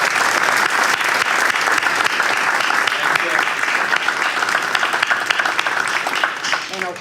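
Sustained, dense audience applause honoring panel members at a university alumni military panel, steady and loud throughout before tapering slightly at the end, with a voice briefly audible beneath.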